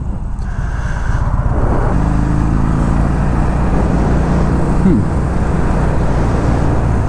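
Harley-Davidson Low Rider motorcycle with a 103 twin cam engine, riding with a steady loud low engine drone and wind rush throughout, plus a brief rising pitch partway through.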